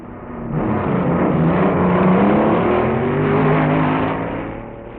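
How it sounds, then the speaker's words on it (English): Vintage 1961 dragsters, including Gordon Collett's Chrysler-powered Old Blue and the Moon Equipment Company car, racing at Indianapolis Raceway Park, a loud, rough engine roar with rising revs swelling and holding for several seconds, then easing off. "The A Dragster Trophy Run pitted the sleek Moon Equipment Company dragster against Gordon Collett's Chrysler-powered Old Blue."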